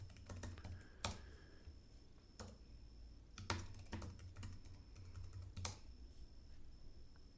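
Keystrokes on a Mac computer keyboard as a password is typed: a quick, irregular run of close, crisp key clicks with a few heavier taps standing out, no voices.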